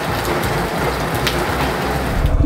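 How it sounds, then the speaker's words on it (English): Heavy rain during a motorcycle ride on a rough backcountry trail, a steady broadband hiss of downpour mixed with low engine and wind rumble, loud and continuous throughout with no talking. "as you can see, it's really raining."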